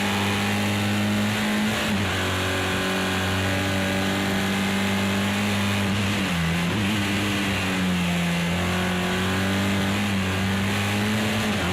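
A race car engine in Project CARS 2 drones loud and steady with strong harmonic tones, dipping briefly as gears shift around the two-second and six-second marks before pulling back up, with no talk over it.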